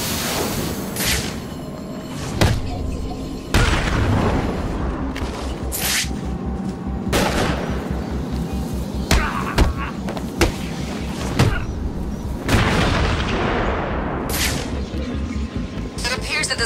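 Gunshots ring out in Batman: Arkham City, with repeated sharp cracks and heavier booms at irregular intervals over a busy, rumbling game background.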